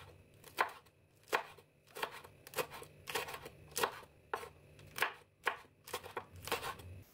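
A knife chops green and red chilies on a cutting board in a steady series of sharp, close knocks, about a dozen crisp strikes coming in small bursts, with no talk.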